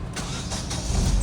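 A car engine cranks and catches, a brief starter whir followed by a low rumble that grows stronger toward the end, close and moderately loud with no talk.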